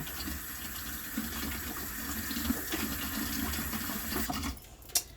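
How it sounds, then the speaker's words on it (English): Warm water runs and splashes steadily for several seconds as it is splashed on a face, then breaks off with a couple of sharp splashy bursts near the end. "Splashing it on my face."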